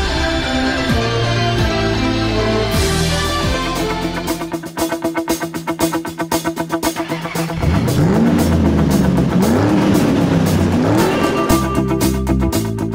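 A Stock Car race car on display in a town: its engine roars loudly and continuously, rising and falling through repeated sharp revs and throttle blips, with a rapid pulsing rattle in the middle, mixed with background music and no speech.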